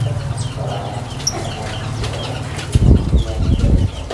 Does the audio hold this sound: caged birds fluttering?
yes